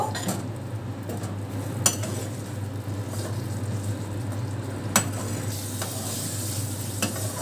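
Spices loosened with a little water being sautéed and stirred in a pan for a Bengali pabda fish curry, a steady close sizzle with a scraping spoon and a few sharp clinks against the pan.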